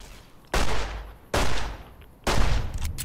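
Three loud pistol shots in Fallout: New Vegas, spaced under a second apart, each sharp crack trailing into a short ringing decay, with no voices.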